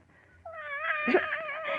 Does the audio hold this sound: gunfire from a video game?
no